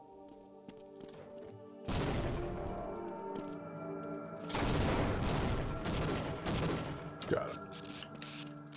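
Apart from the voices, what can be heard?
Half-Life Xeno Project 2 Gargantua fight with Egon and explosives, video game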